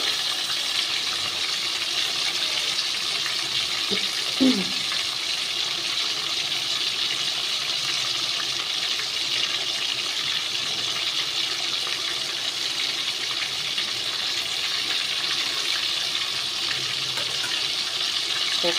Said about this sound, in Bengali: প্রথমে আমি মাছগুলোকে ভেজে নেব